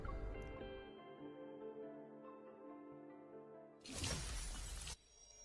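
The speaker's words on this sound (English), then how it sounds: "As the protocol cluster shatters, a distant tremor ripples through the air." Protocol cluster shattering in Love and Deepspace, a single burst of breaking crystal lasting about a second that cuts through the quiet music and then ends abruptly.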